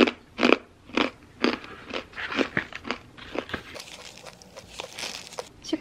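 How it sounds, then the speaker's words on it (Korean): Crisp nut-flavored protein chips with pumpkin and sunflower seeds are bitten and chewed up close, sharp crunches coming in a quick rhythm that softens into lighter crackling chews. "안에는 이렇게 얇고 바삭해 보이는 단백칩이 들어있어요"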